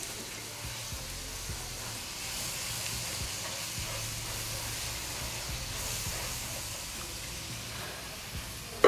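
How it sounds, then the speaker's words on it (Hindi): Masala frying in a pan for a fish curry, giving a steady, even sizzling hiss that holds throughout with no talk over it. "अब जो है ये अच्छी तरह से भुन रहा है"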